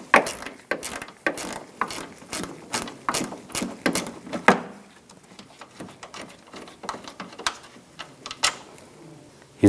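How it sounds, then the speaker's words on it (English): Ratchet wrench with a 10mm socket removing a headlight bolt on a 2011-2018 Ram 1500, giving loud, close, rapid clicking in repeated bursts, with a short pause partway through. "Use a 10mm ratchet wrench."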